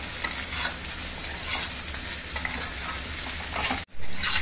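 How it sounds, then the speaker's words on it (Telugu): Chicken fry being stirred in a pan with garam masala powder, a steady close sizzle with scraping stirs throughout before a brief pause near the end. "ఇప్పుడు గరం మసాలా పౌడర్ కూడా వేసుకొని ఒకసారి కలుపుకుంటే"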